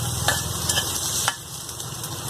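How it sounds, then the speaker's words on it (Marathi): Okra and chillies fry in a pan with a continuous close sizzle, punctuated by a few soft scraping stirs of a spoon against the pan. "आपण त्यात भेंडी घालून घेऊ। एक 2 मिनिटं फ्राय करून घेऊ।"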